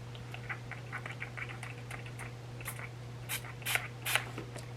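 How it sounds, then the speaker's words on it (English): Makeup setting spray mists from a pump bottle in a few quick, soft, close spritzes near the end, preceded by faint light clicks and handling over a low steady electrical hum. "Mist all over your finished look to lock it down and prevent smudging for up to 16 hours."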